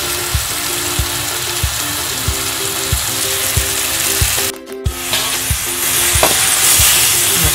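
Spices sizzling loudly in a wok for spicy stir-fried water spinach after sweet soy sauce is poured in, with a regular clicking from stirring and a brief dip partway through.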